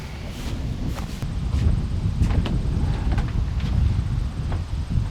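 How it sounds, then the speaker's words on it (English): Strong wind blows outdoors and buffets the microphone with a low, gusty rumble, while scattered sharp clicks and knocks sound nearby throughout. "wind has really picked up"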